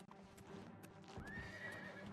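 Horse hooves clip-clop and the horse whinnies loudly in the video game The Elder Scrolls IV: Oblivion Remastered, set against steady in-game ambience, with the neigh rising clearly partway through.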